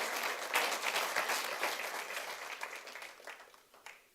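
Church congregation applauding during a Spanish-language sermon, dense sustained clapping from many hands that gradually thins and fades toward the end.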